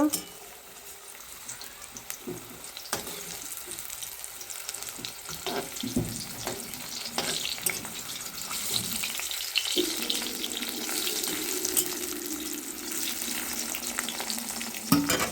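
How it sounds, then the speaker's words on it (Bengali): Pumpkin pieces fry in a pan with a steady sizzling hiss and scattered clinks and scrapes, joined by a louder, more intense sizzle partway through, with faint household noise in the background. "এই দেখো রান্না বসিয়ে দিয়েছি। এখানে হচ্ছে কুমড়ো ভাজা"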